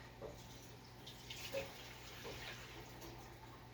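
Homemade chicken stock pours into a soup pot in a soft, steady liquid stream. It stays faint and even against a low background hum, with no speech.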